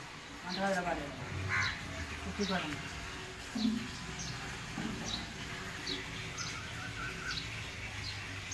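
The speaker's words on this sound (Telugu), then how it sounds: "కాకి ఇక్కడ అరవకు" Crows caw from nearby outdoors at a house where tiling work has just been finished, several short harsh calls spread through the clip under ongoing talk and background chatter.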